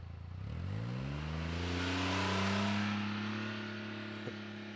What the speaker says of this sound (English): you guys can clearly hear that that engine's spooling up a little bit higher, the vehicle's a little bit louder